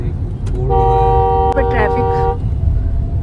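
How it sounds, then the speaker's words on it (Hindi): A car horn on the Taj Expressway blares in one long sustained blast through evening traffic, over a constant road rumble. "शाम का टाइम है, ट्रैफिक है।"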